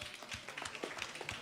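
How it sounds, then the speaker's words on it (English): Scattered claps from a small live-music audience at The Bedford, a living-room-style gig venue, rising and falling in a thin, uneven patter over quiet room noise for a second and a half. "I think you should give yourselves a round of applause"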